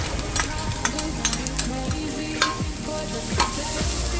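Garlic and scallion sizzle loudly in a pot as flavor is built for pig tail soup, a close, steady frying hiss broken by repeated scraping stir strokes and clinks, with no talking.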